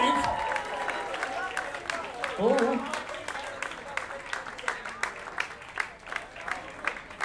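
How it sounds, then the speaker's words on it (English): Audience at a tribute concert in a Belgrade club applauds in sustained, dense clapping, with a voice briefly speaking and cheering over it partway through. "Please, a great applause."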